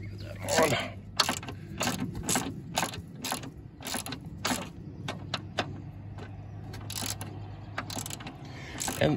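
Socket wrench ratcheting in repeated short bursts while fitting a hood strut on a Ford Bronco, a steady low hum underneath and a voice speaking briefly.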